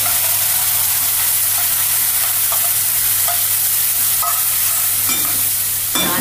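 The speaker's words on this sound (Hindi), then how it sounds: "प्याज को अच्छे से भून लेंगे।" Onion paste frying and being stirred in a kadai while cooking kadai paneer, a steady loud sizzle with scraping spoon strokes throughout, no voices.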